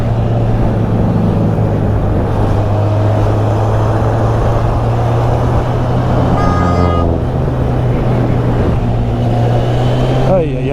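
A car horn honks briefly amid steady traffic and engine rumble, with a voice talking over the road noise.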